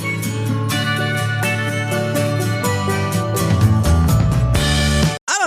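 A song plays loud and steady, with folksy calypso tropical instrumentation and a bright, continuous band sound that cuts off abruptly near the end.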